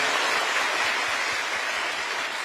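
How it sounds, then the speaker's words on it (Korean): A room full of newly appointed public officials applauds at a training session with the Korean president. The clapping is dense, loud and continuous, and fills the whole span evenly with no talking over it. "여러분 박수 부탁드립니다"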